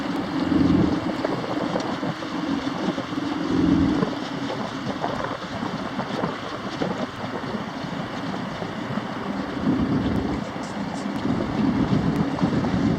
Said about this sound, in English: One big boat just picked up, 2 big engines on it.